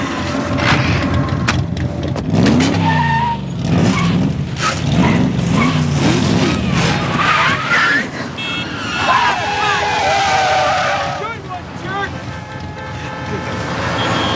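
A high-performance race car driving hard, loud engine revving and rising and falling in pitch through turns, with tire squeals and skidding sweeps mixed in, sustained and close throughout.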